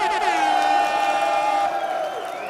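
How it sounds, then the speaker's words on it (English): A crowd cheer-and-applause sound effect plays loudly during a live music review stream, a swelling whoop with a sliding tone over a constant wash of crowd noise. "Oh, the applause is too loud."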